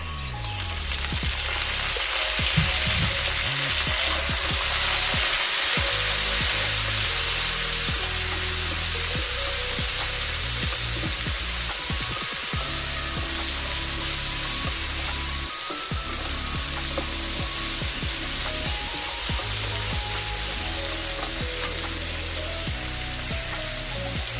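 Chopped tomatoes and onions frying in a pan for chicken kulambu, a loud, continuous sizzle with crackling bursts and occasional stirring scrapes, close up and without voices.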